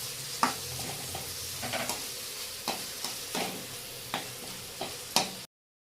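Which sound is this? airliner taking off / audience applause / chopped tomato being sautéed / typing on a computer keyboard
chopped tomato being sautéed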